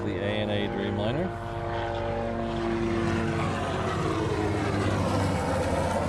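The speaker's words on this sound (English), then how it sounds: "So I think I've timed that rather perfectly to see the Dreamliner right here. This is the ANA Dreamliner." An ANA Boeing 787 Dreamliner airliner passes at an airport, its steady engine roar filling the whole span with a sustained, broad rumble and whine, while someone talks over the near, loud noise.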